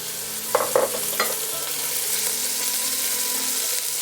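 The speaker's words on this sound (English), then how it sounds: "you take a pound of ground beef, and let's add that to the skillet" A pound of ground beef hits a hot skillet and sizzles steadily, with a few sharp scraping and tapping sounds early on, then an even, close frying hiss with no talking.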